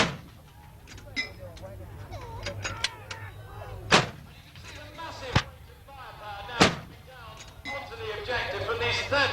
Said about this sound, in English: And there go the guns now, concentrated on the left.